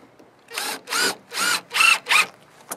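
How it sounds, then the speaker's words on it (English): A battery-operated drill driving screws into a wooden target stand: five short, loud whirring bursts in quick succession, then a brief final blip, with quiet gaps between. "Well, everybody's got a battery operated drill"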